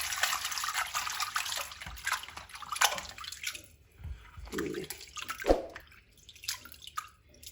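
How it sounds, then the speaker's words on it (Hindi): Pieces of liver are washed in water, with splashing, drips and sloshing handled close up, coming in irregular bursts and short pauses and heard alone. "पहले तो पानी से 2-3 पानी से इसको अच्छी तरह धो लेंगे"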